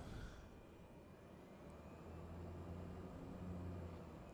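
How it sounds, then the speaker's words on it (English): Airplane engine in Farming Simulator 19, a steady droning hum that holds for several seconds with no talk over it. "This airplane does not turn well."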